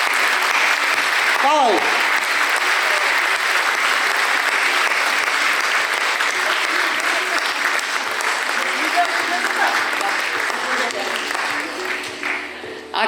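An audience at a nurses' week celebration applauds loudly and steadily, a dense wash of clapping that tapers slightly toward the end, while a voice briefly speaks over it near the start.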